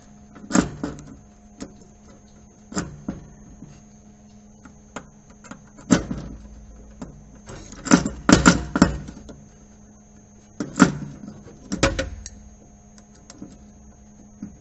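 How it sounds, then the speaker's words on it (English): Scattered sharp metallic clicks and taps, some in quick clusters, as an Allen key tightens Allen screws on top of a motor on a Porter governor lab apparatus, close and distinct over a faint steady hum. "we are tightening this screw on this top of this motor"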